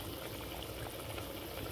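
Chopped carrot and Irish potato poured into a pot for curry chicken, giving a steady, close wash of tumbling, splashing sound for under two seconds with no talking.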